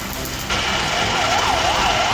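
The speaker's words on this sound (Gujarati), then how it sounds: "એ એમ્બ્યુલન્સ ઉપડી" An ambulance siren starts up as the ambulance pulls away, a loud wailing tone that rises and falls repeatedly over road noise.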